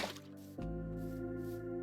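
Water flowing in Minecraft makes a steady, soft liquid wash with a gentle drip-like onset, faint and continuous over a quiet background, with no voices.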